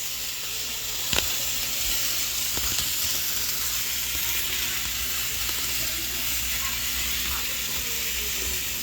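Vegetables sizzle in a pan of cooking soup, a steady broadband hiss with a couple of brief clinks near the start, running evenly throughout.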